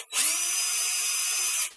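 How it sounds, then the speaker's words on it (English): A power drill pre-drilling a pilot hole in pallet wood whines at a steady high pitch for under two seconds, starting and stopping abruptly, close and loud. "Go ahead and pre-drill it"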